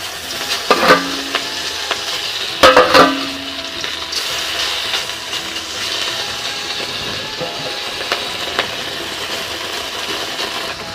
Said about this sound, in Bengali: এখন আমি বাটা মাছটা সামড়াবো